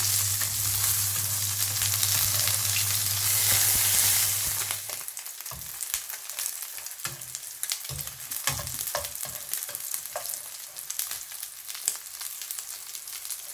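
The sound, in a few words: beef pieces frying in pan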